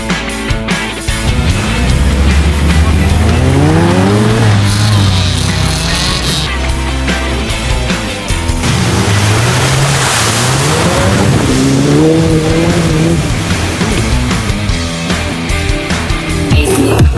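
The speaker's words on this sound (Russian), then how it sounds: "Бегут до машин, заводятся и едут." Off-road race cars fire up and pull away at the start of a competition near Ryazan, loud revving engines rising and overlapping continuously, close and dense throughout with no talk.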